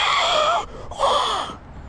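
A human voice imitates wind rushing through a wind tunnel, a breathy whooshing hiss in two sustained swells with a brief gap between them.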